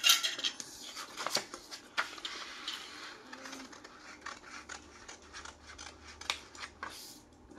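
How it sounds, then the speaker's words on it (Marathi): Scissors snip and slide through fabric, cutting out the front piece of a size 40 four-tuck blouse. The cuts come in close, crisp, repeated strokes with no talking. "आता आपल्याला पुढचा भाग पण लगेच कट करून घ्यायचा आहे, जो मोंढ्याकडचा फ्रंट भाग आहे"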